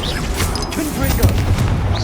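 A Confringo fire spell cast in the Hogwarts Legacy video game bursts out as a string of booming, crackling blasts, with a swell of game action beneath a spoken voice.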